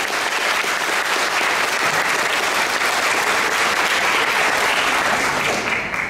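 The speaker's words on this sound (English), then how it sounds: "Let's give everybody a big round of applause." Steady, dense applause from parents, teachers and staff at a kindergarten graduation continues evenly for several seconds, loud and close, with no speech over it.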